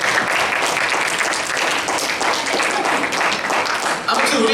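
A group at a church young adults' Bible study workshop breaks into applause, dense and fairly loud clapping from many hands sustained for several seconds with a brief dip near the end.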